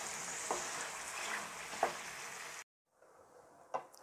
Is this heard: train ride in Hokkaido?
no